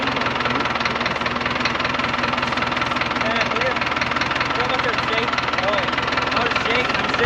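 A 1960 International 460 tractor engine runs steadily with a heavy, rapid knocking shake, loud and constant throughout, with a voice talking over it.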